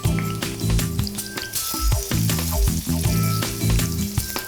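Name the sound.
brinjals frying in sunflower oil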